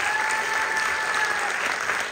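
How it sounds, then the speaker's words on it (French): Applause from a cabaret audience fills a short stretch, with thick, continuous clapping at an even level from start to finish. "On peut aussi réserver un tonnerre d'applaudissements pour Margot."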